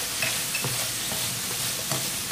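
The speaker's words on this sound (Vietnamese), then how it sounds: "Bây giờ mình sẽ cho phần hành vào nhé." Braised pork with freshly added scallions is stir-fried in a pan: a constant loud sizzle broken by repeated scraping stirs of a spatula, with no voices.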